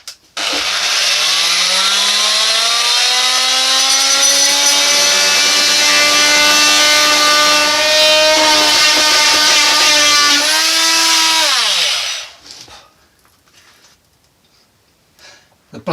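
A power saw with a slightly blunt blade cuts through a piece of wooden trim inside a narrowboat galley, a loud, steady whining drone that holds for about twelve seconds, then winds down and stops, with no talking.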